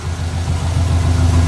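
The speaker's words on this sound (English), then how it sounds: "And we're idling good now." A modified 500 hp Subaru WRX engine idles steadily up close, a loud, even low rumble with a faint rhythmic pulse and no voices.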